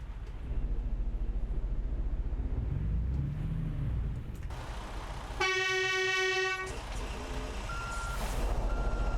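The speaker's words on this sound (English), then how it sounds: "those horns might not really fit the truck very well." A steady engine rumble, then a loud, sustained multi-tone truck horn blares for about a second before the engine noise continues, in the modded game Euro Truck Simulator 2.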